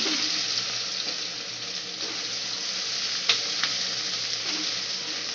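Onion and curry leaves frying in a pan, a dense, even sizzle close by with a couple of faint stirring clicks, steady throughout and free of speech.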